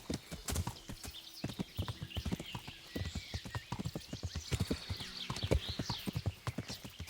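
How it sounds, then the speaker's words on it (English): Horse hooves clip-clop in a steady trotting rhythm in the medieval game Kingdom Come: Deliverance, close and fairly loud, with a brief whinny, light game ambience and a few faint voices underneath. "Right, horsey."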